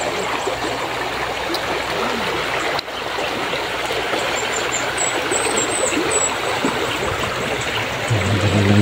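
A wide river flows with a continuous, close babbling rush of water, steady throughout with faint bird chirps above it and no talking.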